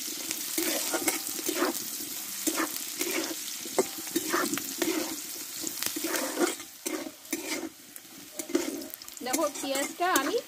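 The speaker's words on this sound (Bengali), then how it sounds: "দিয়ে ভালোভাবে আমি আলুর সঙ্গে এবার নাড়তে থাকবো।" Chopped onion and green chili are stirred with potatoes in a frying pan, giving a continuous close sizzle broken by repeated scraping strokes of the spatula, with a brief voice near the end.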